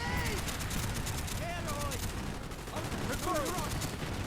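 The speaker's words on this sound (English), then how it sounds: "Here's the weapon I have is an M60, yeah. Tear them soldiers to shreds with this thing." Rapid bursts of M60 light machine gun fire in Call of Duty: Black Ops, sustained and loud, mixed with other battlefield gunfire and game effects under a talking voice.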